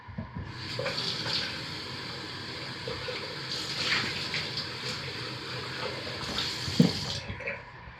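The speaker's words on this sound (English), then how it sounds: "I will start by carefully pouring the lye water into the oils." Lye water pours into soap-making oils in a steady, close splashing stream, swelling and easing a few times over several seconds.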